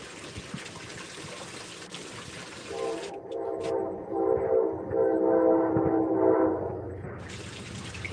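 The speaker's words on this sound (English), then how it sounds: "Train's going by." Train passing by, its rolling rumble joined by a long multi-tone horn blast that swells and holds for several seconds before fading, heard from a moderate distance.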